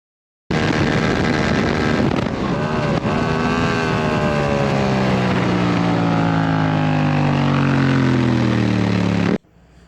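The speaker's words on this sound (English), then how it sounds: "a lot of these downshifts, I'm basically just flicking the clutch lever in, shifting down, and then flicking it out." A Yamaha MT07 with a slipper clutch roars loudly and steadily on a race track, its engine pitch dropping through several downshifts as it slows, with wind noise and no talking.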